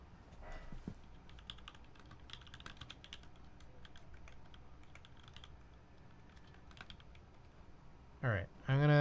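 Fingers type on a computer keyboard in quick, irregular bursts of light clicks, close and fairly quiet, running for several seconds before a voice speaks briefly at the end.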